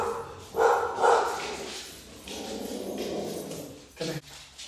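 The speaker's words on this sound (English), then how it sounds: "my dog's about to go crazy" A pet dog gives a few nearby barks and yips in short bursts, with a softer whimpering stretch between them and a final sharp bark, in a quiet indoor room.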